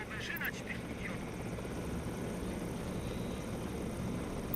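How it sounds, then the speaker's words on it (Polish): Helicopters fly in a Tom Clancy's EndWar battle, giving a steady, loud rotor drone with engine rumble that continues throughout, while radio chatter sounds briefly near the start. "Wszystkie śmigłowce w powietrzu."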